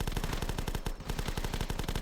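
Rifle fire from survivors in the game The Last Stand, a rapid, evenly spaced stream of sharp gunshots, loud and close, with a brief gap midway before the volley resumes.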